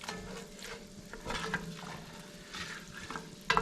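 Ingredients for Puerto Rican arroz con gandules sauté in a pan with a soft, steady sizzle and occasional stirring scrapes, up close and without speech.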